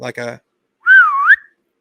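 A short spoken word comes first, then a person whistles a single sliding tone that dips and rises, mimicking a human whistle, clear and close.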